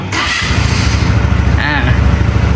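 A DRONE150 motorcycle engine cranks and starts up nearby, then settles into a loud, steady, throbbing idle.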